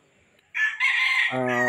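A rooster crows loudly and close by, a single long cock-a-doodle-doo rising after a moment of near silence.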